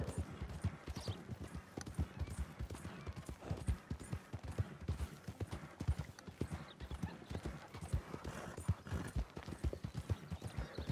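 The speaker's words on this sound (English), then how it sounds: "Wow, my horse is really struggling." Horse hooves clip-clopping in Red Dead Redemption 2, a steady loud rhythmic gait of dense repeated hoofbeats running continuously for the whole stretch with no voices.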